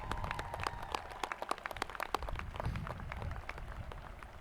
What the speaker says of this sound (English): Give them a round of applause if you would.